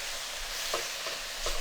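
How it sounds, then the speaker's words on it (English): Pork mince fries in a wide flat pan over high heat, giving off a soft, steady sizzling hiss with a few faint scrapes of stirring. "I'm gonna turn this up a bit because we really want to get some browned edges on the pork mince"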